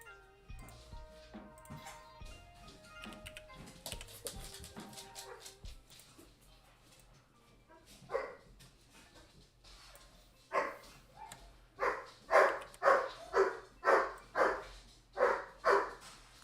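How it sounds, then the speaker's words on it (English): Several dogs bark in a rapid, loud run of yaps and woofs that builds toward the end, with some whimpering and faint talk and background noise in the opening seconds. "And the dogs go crazy."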